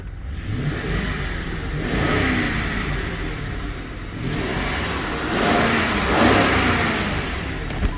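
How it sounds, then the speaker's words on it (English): A 2005 Lincoln Town Car Signature Limited's engine revs up smoothly in several rising accelerating pulls, heard from inside the car with steady road and wind noise, no talking. "Is that not the smoothest motor? Man, that is so smooth."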